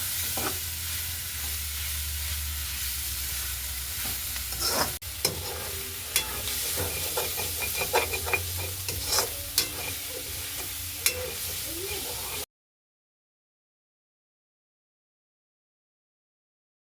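Boiled potatoes stirred through hot oil, a steady sizzle broken by spoon scrapes and clinks against the pan, then the sound cuts off abruptly into silence for the last few seconds.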